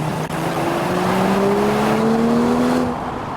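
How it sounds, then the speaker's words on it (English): A BMW X5 40i luxury SUV with the B58 engine accelerates past, a steady engine tone rising smoothly in pitch over three seconds as it drives by, with road and tyre noise underneath. "we have the BMW X5 40i with that glorified B58 engine"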